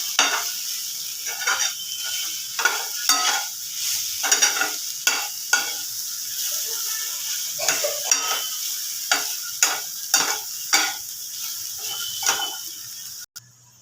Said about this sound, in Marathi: याला पुन्हा 2-3 मिनिटं तरी आपल्याला चांगलं भाजून घ्यायचे, परतून घ्यायचे भाजीमध्ये मसाल्यामध्ये